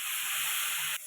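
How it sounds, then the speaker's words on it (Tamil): Water poured into a hot pan holding paste for egg vegetable fried rice, giving a loud, steady, close hiss of sizzling and steam that cuts off abruptly near the end. "தண்ணி எடுத்து கொஞ்சம் ஊற்றிக்கணும்"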